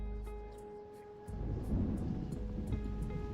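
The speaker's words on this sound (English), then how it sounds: "The wind howls fiercely." Storm in the video game Reverse: 1999 with a fierce howling wind, a steady roaring rumble that swells partway through, with faint tonal ambience beneath and no voices.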